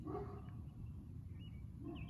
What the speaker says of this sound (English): Please don't mind the dog barking next door, I cannot control it.